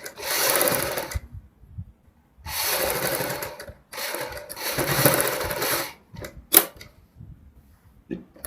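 A domestic sewing machine stitches a neck strip onto a kurti in three long bursts of fast whirring, with short stops, a click and thread-cutting handling in between.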